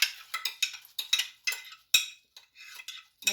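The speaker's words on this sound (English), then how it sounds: "Now I'm going to put the rice into the cooking pot" Dry rice being put into a cooking pot for lemon rice, heard as a series of short rattling, pattering pours and clinks with quiet gaps between them, close and fairly soft.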